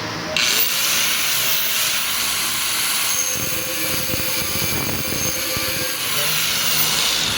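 An angle grinder cuts metal with a loud, continuous high whine up close, its tone shifting slightly as the disc bites, with a voice briefly heard under the noise.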